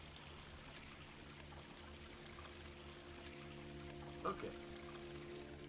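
Liquid pours into a container in the Quern puzzle video game, a soft, steady stream running throughout with a brief spoken word near the end.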